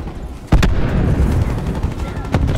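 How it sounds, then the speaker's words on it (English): Sharp blasts from cluster grenade explosions crack out amid rattling gunfire during a Black Ops 4 multiplayer match, two close bursts early and another near the end over a dense battle din with voices talking. "Cluster grenade going out."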